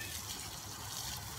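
Water from a hose or can pours steadily onto garden plants outside a house. A brief, even, soft gushing wash that stays constant throughout.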